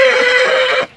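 A horse at the Bateshwar fair gives a loud, close whinny that runs almost a full second and then cuts off abruptly, with no talk over it.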